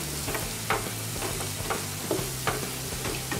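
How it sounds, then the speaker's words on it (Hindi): Spices and onion frying together in a pan for chole crackle and sizzle steadily, punctuated by repeated sharp stirring scrapes and taps, up close with no talking. "ये आधे मिनट के लिए सभी मसालों को हमने भून लिया है प्याज के साथ"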